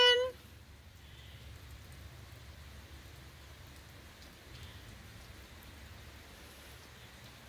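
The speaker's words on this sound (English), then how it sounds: "Guess what? It's raining!" Steady rain falling around an RV motorhome, a soft, even hiss of drops on surfaces that continues without a break after a brief louder sound at the start.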